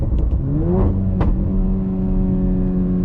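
A Škoda Superb 2.0 TSI engine tuned to about 500 hp rumbles close by, with a brief rev and a couple of sharp crackling pops from the exhaust over a steady droning hum.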